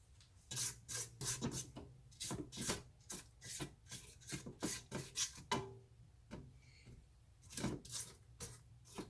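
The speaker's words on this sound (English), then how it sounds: "We're gonna scrape our bowl." A spatula scrapes the sides of a mixing bowl holding pound cake batter, giving quick, repeated rasping strokes up close in an uneven rhythm. The scraping is fairly quiet and carries on for several seconds, with no talking.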